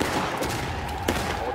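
Musket volley fire in the Civil War game War of Rights: dense, overlapping crackle of many muskets going off together, a sustained roar with a sharper burst near the end, fairly close and loud.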